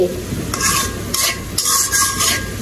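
Spice paste, for a dried pabda fish and Malabar spinach dish, sizzles steadily in a pan while a spatula scrapes it in several distinct bursts; close and fairly loud, with no talking.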